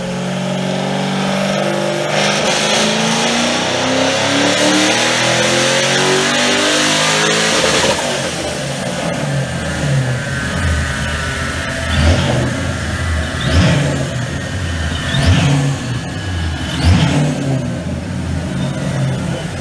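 A supercharged Mustang V8 with a ProCharger P1SC revs hard and steadily at high load on a dyno, then drops back and blips the throttle several more times, loud and close.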